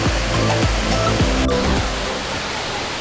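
Rushing water roars steadily at Llanos de Cortez waterfall in Liberia, Costa Rica, a broad, continuous wash of noise heard close and loud, with a faint low rumble pulsing underneath.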